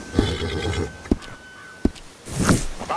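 A Buttermilk Buckskin Kentucky Saddler horse at a stable in a western video game gives a loud, close whinny near the end, after a few sharp thuds and soft hoof sounds.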